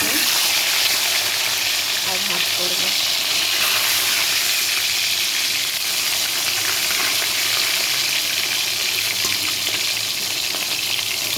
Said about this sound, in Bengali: মাছ আমি ভাজা বসিয়ে দিয়েছি এক পিঠ ভাজা হয়ে গেছে